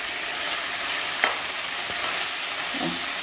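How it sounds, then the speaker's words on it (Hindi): Fried eggplant pieces are stirred into a poppy seed paste in a pan for Bengali baingan posto, giving a steady low sizzle with a few scraping stir strokes and a light utensil knock. "अब ये सारे जो बैंगन फ्राई करके रखा था"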